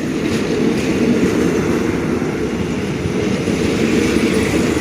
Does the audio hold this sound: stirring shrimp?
no